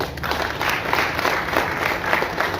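A crowd gathered for the renaming of a New York street in honour of Dr. B.R. Ambedkar breaks into sustained applause, a dense, even roar of many hands clapping together with faint crowd noise beneath.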